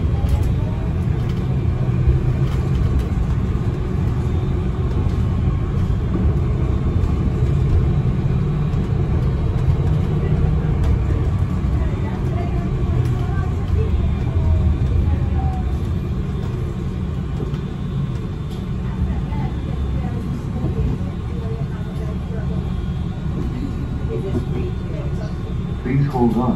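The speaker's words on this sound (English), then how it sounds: "Hold on. The bus is departing." Honolulu TheBus city bus 4001 on Route 61 Kaneohe-Aikahi, along Likelike Highway, pulls away with a steady, loud low engine rumble heard from on board, while a voice talks over it.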